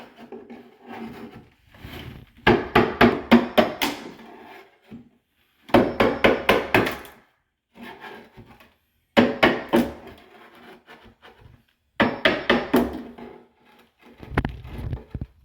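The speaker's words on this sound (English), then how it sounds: "So if I hit it near the nail, then the nail will also come out." Hammer blows strike a wooden stair tread to knock out nails, in several bursts of rapid, evenly spaced hits separated by brief pauses, close and loud.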